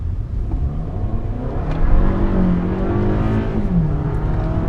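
A 2018 Toyota Camry XLE with a 4-cylinder engine and 8-speed automatic accelerates under a steady, fairly loud engine drone, its pitch climbing and easing through shifts against road rumble.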